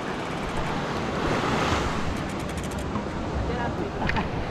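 Steady broadband rush of surf washing on a beach shore in Naic, Cavite, mixed with wind buffeting the microphone, continuous and fairly loud throughout.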